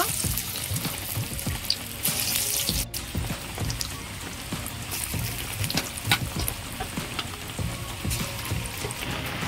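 Jackfruit seed pakoras deep frying in hot oil, a steady, dense crackling sizzle that holds close and even throughout, with scattered sharper pops.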